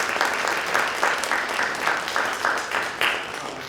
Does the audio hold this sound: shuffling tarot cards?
no